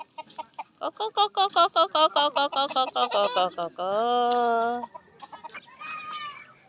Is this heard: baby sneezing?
no